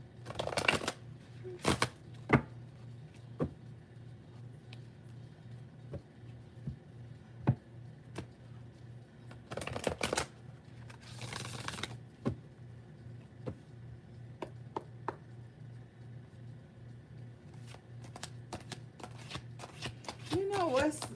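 Tarot cards are shuffled close up over a steady low hum, with repeated crisp riffles and taps and a few longer dense bursts of card noise spread through the stretch.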